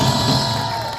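An audience applauds a speaker at a Korean political rally, a brief, loud wash of clapping and crowd cheering with no speech over it.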